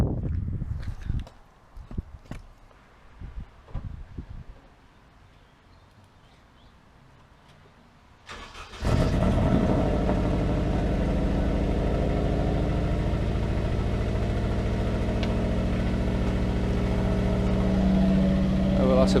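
A Honda Civic with an engine fault sits quiet with a few clicks and handling noises, then its engine cranks and catches about halfway through and settles into a loud, steady idle until the end.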